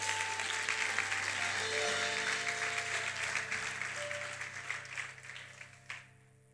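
A church congregation applauds during a Spanish-language sermon. Full, sustained clapping rolls on with steady sustained tones and organ-like chords beneath it, then thins out and fades near the end.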